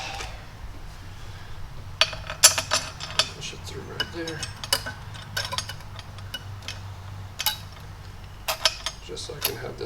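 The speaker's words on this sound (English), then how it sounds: "I'll hold on to both of these bolts. And try to get them to go in." Metal bolts clinking against one another while being fitted to a water pump on a C5 Corvette, light scattered ticks and clicks close by, with quiet handling noise and no talking.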